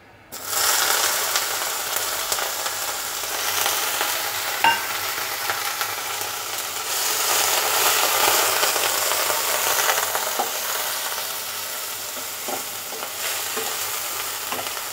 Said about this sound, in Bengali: দিয়ে এর মধ্যে আমি দিয়ে দেব পেঁয়াজ ফোড়ন